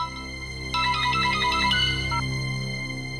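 A mobile phone rings indoors with an electronic tone, a quick burst of bright chirping notes that then settles into a steadier melodic pattern, clear and close.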